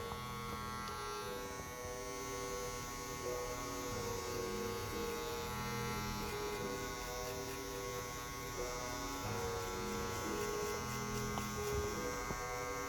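An electric hair clipper with its blade open runs steadily at close range, a continuous buzzing hum as it cuts a soft guideline around the hair, with no talking.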